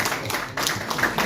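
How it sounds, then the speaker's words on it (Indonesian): Applause from a crowd at an interfaith youth harmony gathering: steady, dense clapping throughout, moderately loud and continuous with no talk over it. "Tepuk tangan dulu dong."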